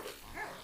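A dog gives a single brief, muffled bark at feeding time, heard close and alone.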